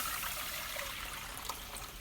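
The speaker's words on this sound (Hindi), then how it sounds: "इसके अंदर शामिल कर देंगे 1 लीटर पानी" About one litre of water poured into a pot set on a stove flame while making peach juice: a steady, close splashing stream that runs for the full two seconds with no talking.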